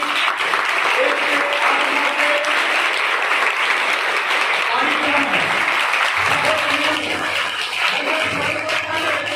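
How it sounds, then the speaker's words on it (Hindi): Congregation in a Sunday church service applauding loudly to welcome a visitor, a sustained wash of many hands clapping with voices and music tones mixed in underneath. "उनके लिए जोरदार ताली"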